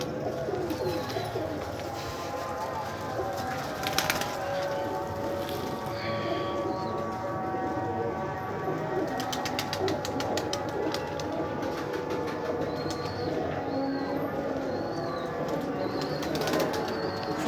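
Pigeons call with soft repeated coos, joined by occasional bursts of wing flapping, over a busy outdoor background with other birds and faint ambient noise.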